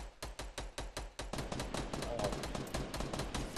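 Rapid automatic gunfire rattles in Fortnite, a dense stream of close, punchy shots that blurs into a sustained burst, with voices talking over it.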